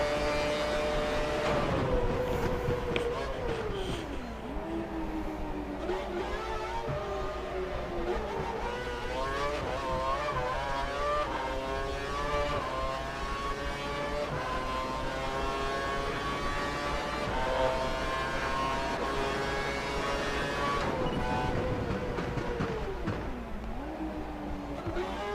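Race car engine in the F1 2012 video game, loud and continuous, climbing in pitch through the revs with abrupt drops at manual gear shifts, then braking down and accelerating again.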